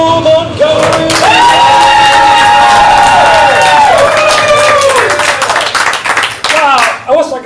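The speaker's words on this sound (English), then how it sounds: "I wish I got that kind of applause at work" Comedy show crowd at ComedySportz Portland breaking into loud sustained clapping and cheering with whoops as the referee is brought out, a host's voice heard over it before the applause thins near the end.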